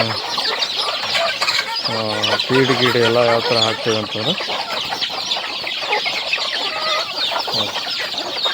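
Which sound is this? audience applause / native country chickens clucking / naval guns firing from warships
native country chickens clucking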